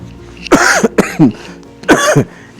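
A trekker coughs on a slow climb at about 4,200 metres in the cold Everest Base Camp region. Three or four harsh, close coughs and throat-clearing bursts come in two clusters, separated by short quiet gaps.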